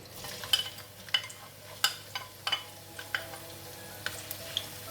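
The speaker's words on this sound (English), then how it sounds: "So we're going to fry the shallots until crispy and brown." Shallots frying in oil in a pan until crisp and brown, a soft steady sizzle with a series of sharp scraping stir strokes spaced about half a second apart, close by, with no talking.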